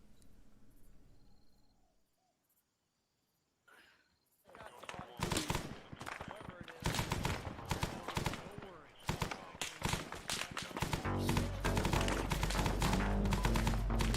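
Dense gunfire from the Vietnam-era Arma 3 S.O.G. Prairie Fire game, beginning after a quiet opening with a near-silent gap and then bursting into rapid, loud volleys and automatic fire that grow denser and build steadily to the end.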